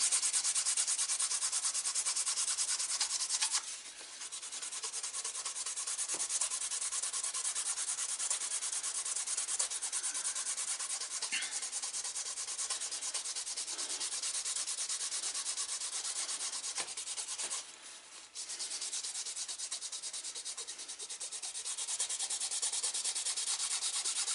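Steady, close friction hiss as a dyed leather edge is burnished, rubbed continuously with only brief pauses in the stroking.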